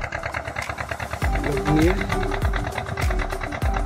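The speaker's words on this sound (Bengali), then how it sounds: "প্যাসেঞ্জার নিয়ে বোটটা যাচ্ছে।" A passenger boat's engine chugs on the river at Farakka, a low, steady, throbbing drone that grows louder partway through, with a person talking over it.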